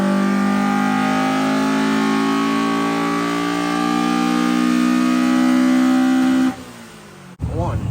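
A Toyota AE86 Hachi-Roku hot rod on a Link engine management setup holds a loud, steady engine drone with strong harmonics for about six seconds. It then cuts off abruptly, and a brief rising rev follows.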